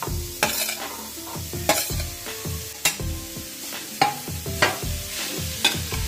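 Grated carrot stirred and sautéed in a pan for carrot halwa, a soft sizzle broken by regular rhythmic scrapes of a spoon against the pan, roughly one stroke per second, close and clear with no voices.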